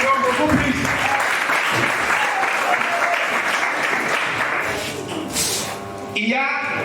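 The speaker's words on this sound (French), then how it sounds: "Veuillez l'applaudir encore beaucoup plus." An audience of students claps steadily at a law-student mock trial event, the applause dipping in intensity before a voice and a short sharp noise cut in near the end.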